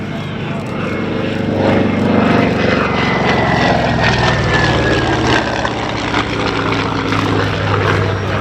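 An F6F-5 Hellcat or FM-2 Wildcat propeller warplane passes at an air show, a loud sustained engine roar with a falling whine as it sweeps by, holding strong throughout before easing slightly.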